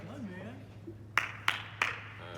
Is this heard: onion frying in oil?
no